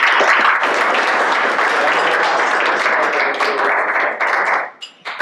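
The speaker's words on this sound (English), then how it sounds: "a clap for Josephine and Suzanne" A room of people applauding for two guest speakers at a climate change and women event, dense steady clapping that carries on for several seconds before thinning into a few last claps.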